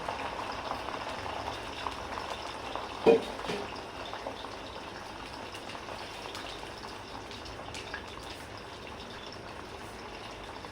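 Garlic frying in a pan for a beef pickle gives a faint, steady bubbling sizzle that runs throughout, with one brief louder pop partway through.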